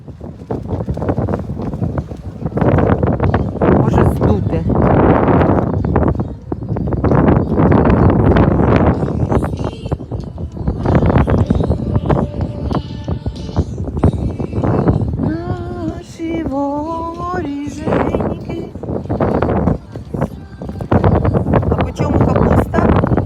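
Strong, gusty wind roars and buffets the microphone throughout, loud and constant, with a person speaking over it at times.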